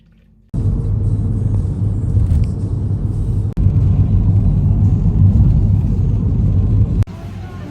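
Inside a bus heading toward Tallinn, a heavy, steady low rumble of the engine and road fills the cabin, broken by a couple of brief jolts, with no one speaking.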